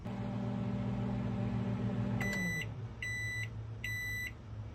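A microwave oven runs with a steady low hum while heating old plastics, then winds down and gives three evenly spaced completion beeps, loud and close, with no talking.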